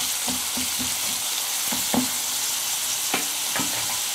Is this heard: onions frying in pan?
yes